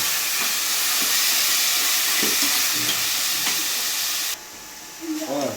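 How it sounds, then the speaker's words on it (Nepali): Onions fry in a pan with a loud, constant sizzle and occasional stirring scrapes; the sizzle drops away near the end as a voice briefly speaks. "अब यो प्याज फ्राई हुँदैछ।"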